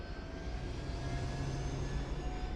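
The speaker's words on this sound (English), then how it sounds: "I'm going to let the engine spool up" A helicopter engine in the DayZ game spools up as a steady droning turbine whine with tonal hum, moderately loud and continuous throughout, with no talk.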